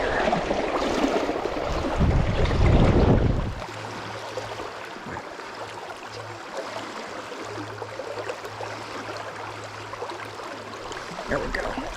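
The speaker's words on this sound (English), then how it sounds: "so the wind is still here" Wind gusts beside a limestone stream while someone is fly fishing. Loud buffeting comes first, then settles into a steady rush of moving water and breeze with a low hum in the background.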